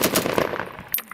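Rapid burst of automatic weapons fire from US Marines conducting reconnaissance by fire during a firefight in Afghanistan, sharp close cracks in quick succession with a brief final shot.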